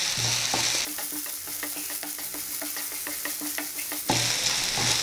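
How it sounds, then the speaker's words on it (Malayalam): Okra sizzles and fries in coconut oil in a pan, a steady loud crackle with stirring scrapes and light utensil clicks throughout, no voices. "നല്ലപോലെ മൂപ്പിച്ച് പോരാം ഇത് നല്ലതുപോലെ"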